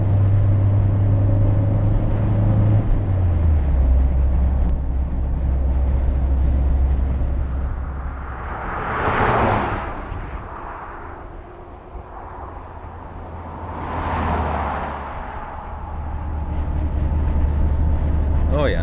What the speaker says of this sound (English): it's good to be driving this car again